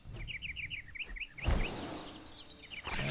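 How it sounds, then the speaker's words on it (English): Canaries in the video game Hungry Dragon give quick, bright chirps in rapid repeated bursts, with a couple of low thumps and game noises in between and no voices. "And look those canaries, we catch one"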